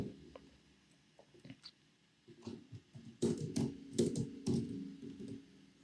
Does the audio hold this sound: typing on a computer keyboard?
yes